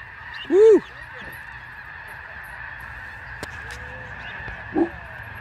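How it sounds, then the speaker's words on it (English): Geese honk outdoors as a flock flies past, one loud nearby honk early on and a fainter call near the end, over steady wind and hum. "Are you watching all the birds flying out there?"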